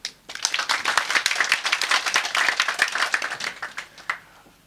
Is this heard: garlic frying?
no